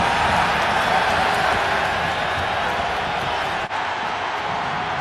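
Dense, steady roar of a large football stadium crowd at an MLS match between Minnesota United and LA Galaxy, loud and continuous throughout with no distinct peaks.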